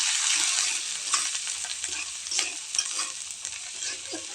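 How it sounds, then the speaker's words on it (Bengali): Prawn malai curry being stirred in a pan: continuous scraping and stirring strokes over a steady sizzle, close and fairly loud, with no talking. "ভালোভাবে নাড়িয়ে নেব।"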